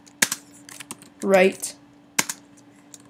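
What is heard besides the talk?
typing a command on a Mac computer keyboard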